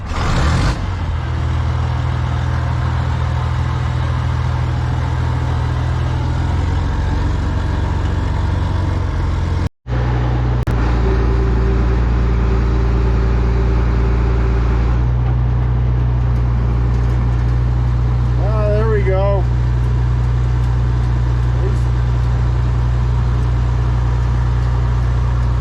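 A John Deere 890 excavator's diesel engine cranks, fires and settles into a loud, steady idle nearby, with a brief cutout and a later shift in pitch as it keeps running, with no talk over it.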